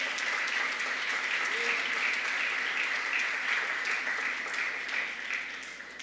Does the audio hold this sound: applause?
yes